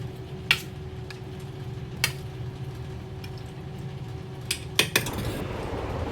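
Paneer stirred into steamed onion and capsicum in a pan, with a few sharp spoon clinks against the metal spaced over a quiet background hum, close and without speech.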